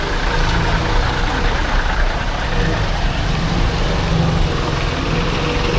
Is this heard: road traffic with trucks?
yes